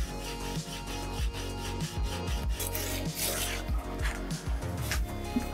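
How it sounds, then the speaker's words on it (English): Repeated rasping strokes of hardened steel knife stock rubbed back and forth on sandpaper clamped to a flat granite tile, a steady rhythm of scratchy passes, close and fairly loud. "I clamp a piece of sandpaper on a flat tile of granite to make sure I'm sanding flat surfaces"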